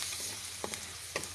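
Garlic sizzles in hot melted butter with a steady, close frying hiss, broken by two or three soft scrapes of stirring.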